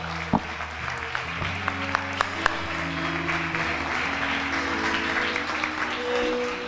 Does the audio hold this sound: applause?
yes